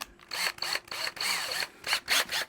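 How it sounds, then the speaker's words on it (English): A drill motor runs in short, stuttering bursts, revving on and off with a whirring, slightly ratcheting tone, close and loud with no talking. "I didn't bring the drill motor. Now we're back in action."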